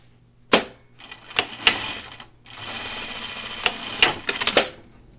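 A sewing machine seams a jeans waistband facing in two steady whirring runs, separated by short pauses and sharp clicks and clunks as the fabric is handled, loud and close with no talk.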